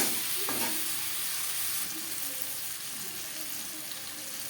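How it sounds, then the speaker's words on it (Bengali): Onion, tomato and garlic with salt and turmeric being stirred in a pan, a steady broad hiss of frying with soft scraping strokes, close and fairly even throughout, no talking. "লবণ হলুদ পেঁয়াজ টমেটো রসুনের সাথে বেশ ভালো করে মিক্স করে দেব"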